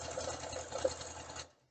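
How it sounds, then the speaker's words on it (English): Sewing machine running steadily as it stitches a fabric flange down on a quilted pillow, a continuous close whir for over a second before stopping abruptly. "And we're going to sew it all the way down."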